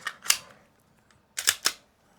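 A Ruger RXM pistol fires its last rounds and the slide locks back on the empty magazine, heard as two pairs of sharp metallic clicks and clacks separated by a short quiet gap, close by.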